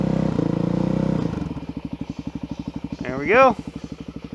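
A 2013 Suzuki DRZ400SM motorcycle cold-starting with no choke: a cranking, rising burst settles into a rapid, steady single-cylinder idle with a quick throttle blip, close, with someone speaking briefly.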